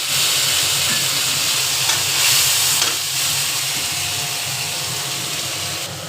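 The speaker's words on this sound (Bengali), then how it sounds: "তেলটা গরম হয়ে গেছে, এবার পোস্ত বাটাটা দিয়ে দিলাম" Ground poppy seed paste dropped into hot oil sizzles loudly and steadily, a dense hiss that holds close and unbroken throughout with no voices.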